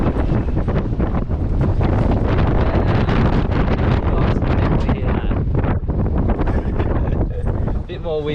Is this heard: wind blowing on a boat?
yes